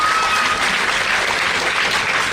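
Audience applause at an award ceremony honouring students, a dense steady burst of clapping from a crowd filling the whole moment, loud and close.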